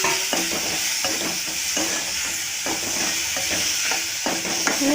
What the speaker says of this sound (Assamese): সেইখিনি এতিয়া অলপমান ভাজি ল'ব লাগিব